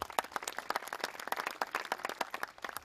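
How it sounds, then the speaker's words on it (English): Staff party audience in the UAE clapping during a comedy set, a fairly faint, steady patter of individual hand claps from a modest crowd, with no talking over it. "So let's give them a round of applause"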